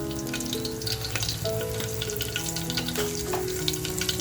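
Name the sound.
asafoetida and garlic sizzling in hot oil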